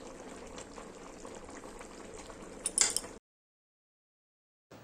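Jackfruit and prawn curry with water added boils steadily in a pot, a continuous bubbling simmer close by, swelling briefly before cutting to silence.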